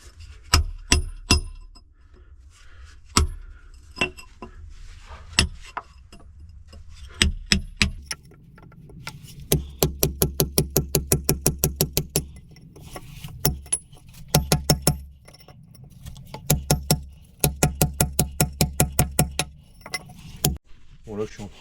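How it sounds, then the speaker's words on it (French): A bricklaying hammer strikes a chisel to chip away brick on a window sill, with sharp metallic clinks scattered at first, then rapid bursts of repeated blows, close and ringing. "Alors ça je le fais à la bassette et au burin."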